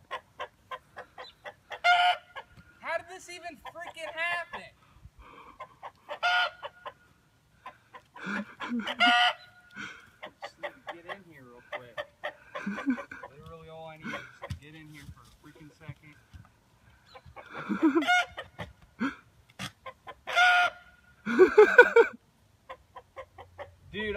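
Rooster clucking and crowing in bursts, loud and close, mixed with people talking and laughing over the fowl sounds.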